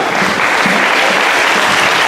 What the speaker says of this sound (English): come out front for recognition and a round of applause